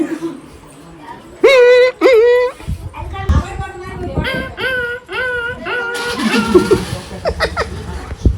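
A dog whimpers and yelps in high, wavering cries, several in a row, close by, with people talking and background noise.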